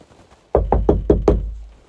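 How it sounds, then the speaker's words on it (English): Five sharp knocks on a door, evenly spaced and loud, follow a moment of silence and are heard alone with no voices. "Another knock."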